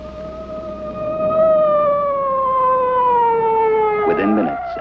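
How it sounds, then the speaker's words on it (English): A cartoon ambulance siren wails in a long, slowly falling steady tone with bright harmonics, loud and close, ending with a brief burst of other noise. "Within minutes, an ambulance was on the scene."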